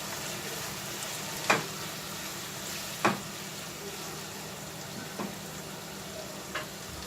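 Mushrooms and vegetables cooking in a pan over a low gas flame, a soft steady sizzle throughout with four brief utensil taps spaced a second or two apart.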